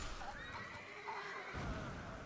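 A horse whinnies in a long, wavering neigh in the video game Elden Ring, fairly close and clear, with a faint hoof-like clatter underneath.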